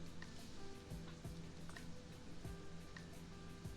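Outside rain patters steadily as a soft, continuous hiss with scattered drops, faint and distant, with no voices over it.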